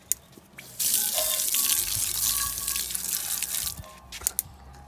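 A kitchen tap is turned on and runs strongly into a sink for a few seconds, a loud, steady splashing rush that then stops, leaving a few drips.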